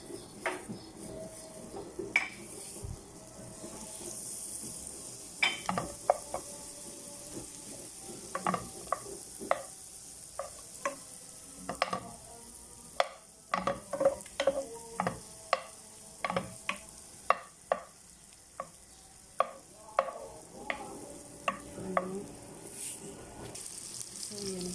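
Butter sizzles in a pan being prepared for buttered corn chicken, a soft crackling frying hiss with frequent sharp clinks and stirring taps throughout.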